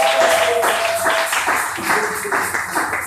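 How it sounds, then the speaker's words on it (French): A church congregation applauds together, a dense run of overlapping claps with a little vocal noise mixed in, loud and close throughout. "Est-ce qu'on peut applaudir pour la gloire du Seigneur?"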